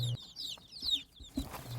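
A cluster of cheonggye (green-egg chicken) chicks in a brooder peeping with quick, high, downward chirps repeated close by, with some soft rustling and thumps underneath.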